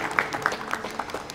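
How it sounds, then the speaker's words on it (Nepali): Audience clapping at a Nepali movie announcement event, a brief stretch of scattered, moderately loud handclaps with a few sharp individual claps standing out. "हिमालजी एकचोटि जोरदार ताली उहाँको सफलताका लागि"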